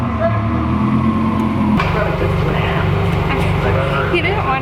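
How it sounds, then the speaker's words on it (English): A 1200 hp UGR Lamborghini warms up with a steady, deep idling drone that shifts pitch partway through, loud and close, with people talking over it. "It's warming up right now. I'm sure you can hear it."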